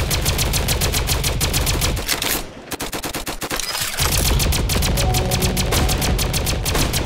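Rapid automatic gunfire from the video game Flag Wars, dense bursts of shots nearly continuous and loud, briefly dropping off for about two seconds before resuming at full intensity.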